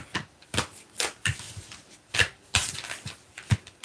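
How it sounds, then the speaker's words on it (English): Tarot cards being shuffled by hand in a series of quick, crisp riffling bursts with short pauses between them, close and moderately loud with no talking. "Let me shuffle these again."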